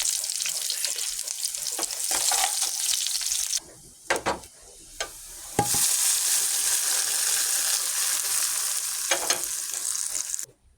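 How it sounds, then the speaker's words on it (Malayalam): Mustard seeds crackle and splutter in hot oil while tempering for a Kerala pulissery curry. The sizzle is dense and continuous, breaks off briefly partway through, then resumes loud and close. "നമ്മുടെ പുളിശ്ശേരിയിലേക്ക് നമുക്ക് ഇത്തിരി കടുക് തന്നിക്കാം"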